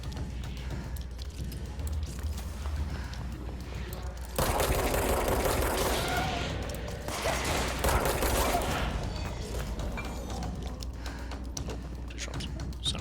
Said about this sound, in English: Oh, more shooting.